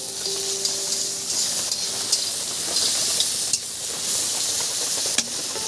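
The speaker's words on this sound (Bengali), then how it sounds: "পেঁয়াজটা একটু নেড়ে চেড়ে নেবো।" Chopped onions for a Maggi noodle dish are stirred in a hot pan, making a steady, fairly loud sizzle and hiss with occasional sharp scrape and clack sounds from the spatula, and no voices.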